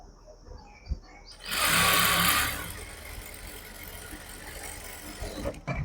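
A sewing machine stitches a zipper onto fabric stiffened with buckram for foam-padded wrist cuffs. One loud, whirring run of about a second is followed by quieter handling noises.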